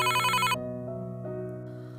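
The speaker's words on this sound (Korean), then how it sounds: "금지옥엽 키운 판사 아들의 전화가" A telephone rings with a bright electronic ringtone for an incoming call from a son, a short loud ring at the start followed by a sustained fading tone.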